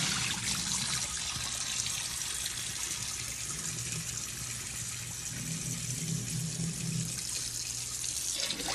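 Steady running water pours into a sink while rice is rinsed, a continuous close splashing rush with faint swirling, no voices.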